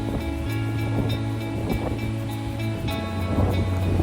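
The Bhagirathi River near Gangotri rushing steadily at a remote pulley crossing, a loud continuous roar of flowing water mixed with wind buffeting the microphone.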